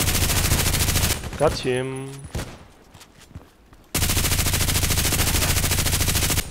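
An RPKT machine gun in the video game Contract Wars fires long, loud, rapid bursts at the start and again at the end, with a quieter gap between them in which a player speaks briefly.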